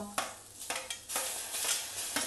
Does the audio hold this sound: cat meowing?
no